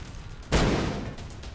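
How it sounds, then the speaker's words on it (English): A flashbang grenade goes off in XCOM: The Long War as one sudden loud blast at about half a second, followed by a short decaying rumble and a quiet tail. "Hit him with a flashbang"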